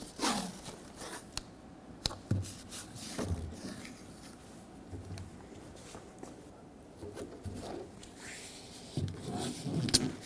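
Masking tape strips are torn and pressed onto the window of a 1995-2004 Toyota Tacoma, heard as close, irregular ripping and crackling bursts with quiet pauses between strips.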